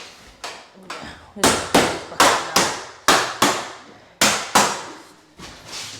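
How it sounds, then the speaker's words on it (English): Sharp nylon hammer taps, about nine or ten, knock glazing beads into a door frame in an irregular rhythm, each ringing briefly and loud close by. "use a nylon hammer to get your beads back in, so it doesn't mark the door"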